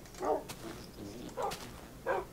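Dog barking in the Minecraft video game, three short, fairly faint barks spaced about a second apart over quiet background.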